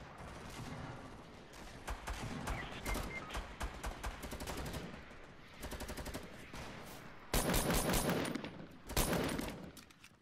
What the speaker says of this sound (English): I can see they're shooting down my squad in big numbers